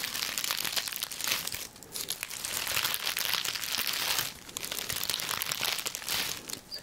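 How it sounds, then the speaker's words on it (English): A big bunch of dry black or garden sage crinkles and crackles close by as hands grasp and squeeze it, in bursts of crisp rustling with short pauses. "So here I have a big bunch of sage. Not white sage. I think this might be called black sage."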